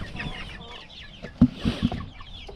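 Several backyard chickens cluck softly nearby, with a few sharper clucks standing out near the end against a quiet background.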